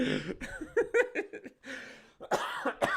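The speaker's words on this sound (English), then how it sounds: "I'm coughing more." Someone coughs repeatedly in quick, rough bursts close by, with a short pause before a final couple of harsher coughs.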